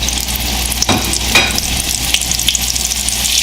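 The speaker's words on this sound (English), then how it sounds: "It's only going to take literally a couple minutes for these to fry" Mushrooms deep frying in hot oil give a steady, close sizzle with a couple of sharp crackles early on and no one speaking.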